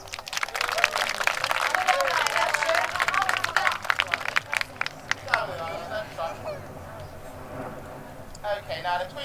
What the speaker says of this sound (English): Round of applause for Isla,